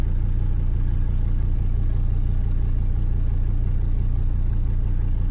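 A Mercedes 300D diesel engine idles steadily after running with zero oil pressure, a loud, close, continuous low clattering rumble with an even rhythm and no talking.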